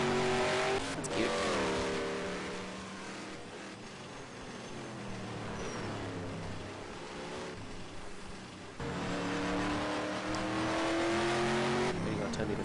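Ford Mustang race car engines from a racing video game rev and drone, pitch sweeping up and down through gear changes, while a commentator talks over them.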